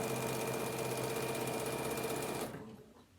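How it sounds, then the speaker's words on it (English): A sewing machine stitches a strip of Velcro down onto fabric for a tablet holder, a steady close whirring run of rapid needle strokes that stops abruptly near the end. "So again, stitch down one end and stitch down the other"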